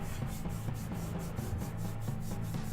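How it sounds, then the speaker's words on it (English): Mechanical sound of the Gundam Zero mobile suit in a Gundam space combat game: a steady rushing, grinding hiss with faint rhythmic pulses running throughout, moderately loud and continuous, with no voices. "That's the sound the Gundam Zero makes a lot."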